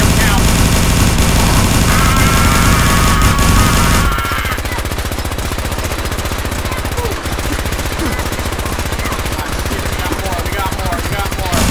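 Gunfire in the Fallout video game, a dense, loud, continuous burst of shots that suddenly shifts to a different sustained firing texture partway through, with no voice heard over it.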